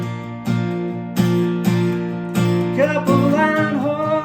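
An acoustic guitar plays the bridge of a song in strummed chords, each ringing out before the next, then a short run of picked notes near the end. Clear and close, with no voices.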